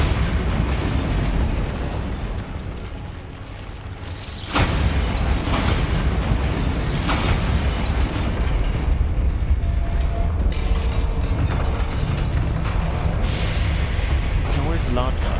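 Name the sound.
Bombarda spell explosion in the video game Hogwarts Legacy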